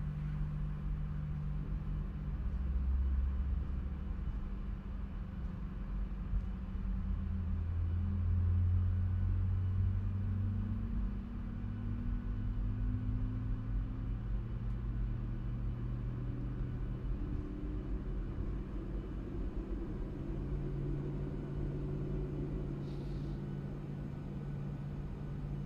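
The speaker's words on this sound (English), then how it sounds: "So there's engine number 2 starting nicely." Engine number 2 of a PMDG 737-800 spools up in Microsoft Flight Simulator 2024, a low steady rumble with rising whining tones that climb and settle, continuous and moderately loud with no talking.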